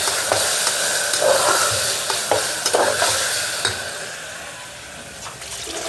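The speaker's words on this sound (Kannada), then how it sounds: "ಇದನ್ನು ಇವಾಗ ನೀಟಾಗಿ ಕಲಿಸ್ತೀನಿ" A spoon stirs a vegetable biryani masala mixture in a pot, with repeated scraping strokes and a soft sizzle from the hot pan continuing underneath.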